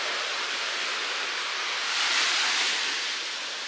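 Ocean waves wash up on a beach in a steady, broad roar of surf, swelling briefly louder midway, then settling back. No voices are heard.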